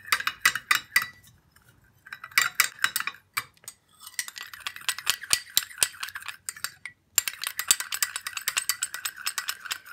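A spoon scraping and clinking around a bowl while a paste for whitening the feet is mixed, a busy run of quick metallic taps and rattles that stops briefly between rounds of stirring.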